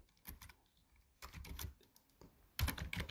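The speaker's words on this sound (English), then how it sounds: "here we are going to type hello Java, hello world" Bursts of typing on a computer keyboard as Java hello world code is entered, quick clusters of keystrokes separated by short pauses, close and fairly quiet, no voices.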